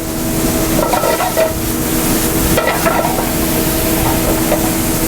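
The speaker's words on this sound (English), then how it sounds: "You see how quick these mushrooms are cooking up?" Mushrooms browning in a hot pan with salt and pepper in a bistro kitchen give a steady, loud sizzle, with faint stirring scrapes and clinks on top.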